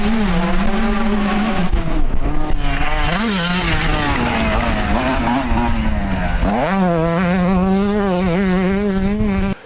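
A 2022 Yamaha YZ125 two-stroke motocross bike fitted with a GYT-R performance kit screams loudly and close on a track, its revving engine rising and falling through gear changes for the whole stretch with no talk.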